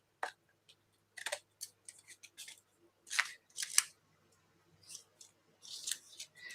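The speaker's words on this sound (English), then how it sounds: "we can cut some paper and kind of see what it looks like" Scissors snip through scrap paper strips for a junk-journal collage background, a run of crisp, close cutting crunches in uneven bursts with short pauses, no voice.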